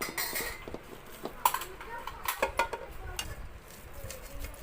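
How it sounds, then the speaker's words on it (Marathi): Hot puran, a cooked sweet lentil filling, is mashed through a metal sieve set over a pot, giving quiet, irregular scraping and clinking with a few sharper metallic taps. "मी आता पुरण बारीक करून घेणार आहे"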